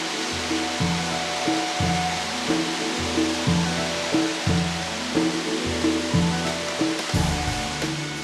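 Huangguoshu waterfall on the Baishui River in karst limestone country, a loud, dense, unbroken roar of falling water with a recurring low throbbing pulse beneath, filling the whole space with no voices.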